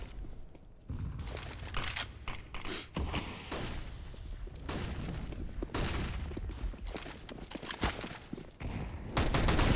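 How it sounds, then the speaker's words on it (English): Gunfire and grenade blasts from a Counter-Strike esports match, with dense, rapid bursts of shots and thuds running continuously and loudly throughout, no voices. "Nades are coming in."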